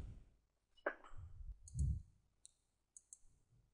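Computer mouse clicking on a webpage banner: a few faint, crisp clicks spread across a few seconds, with soft handling noise between them in a quiet room.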